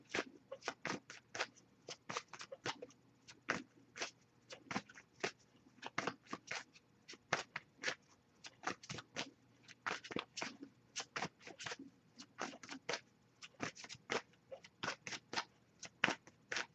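Oracle cards being shuffled by hand during a general tarot-style reading, a steady run of quick, crisp riffling flutters repeating in close bursts for the whole stretch, fairly soft and with no talking over it.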